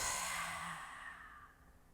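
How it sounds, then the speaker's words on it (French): A long, soft breath out through the mouth during a beginner yoga session, heard alone and close, fading slowly over about two seconds. "Une très longue expire par la bouche"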